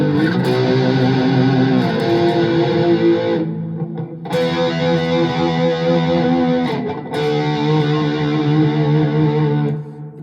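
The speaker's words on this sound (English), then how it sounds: "He puts vibrato in power chords." Distorted electric guitar power chords for metal rhythm playing, with vibrato added to the sustained chords; three long, loud ringing chords, each held a few seconds, with no talking.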